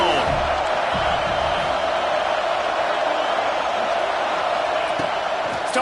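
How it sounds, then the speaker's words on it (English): A roaring stadium crowd fills a college football game, Iowa hosting USC, as a steady, loud wash of cheering and noise holds without a break, with faint thuds beneath. "This crowd ready to make its presence known."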